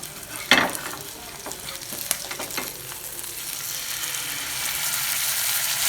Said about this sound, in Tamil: ஒரு பக்கம் வெந்துருச்சு, இன்னொரு பக்கம் அதை அப்படியே திருப்பி போட்டுக்கலாம்.